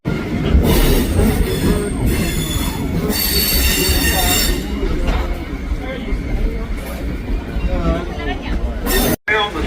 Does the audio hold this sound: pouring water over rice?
no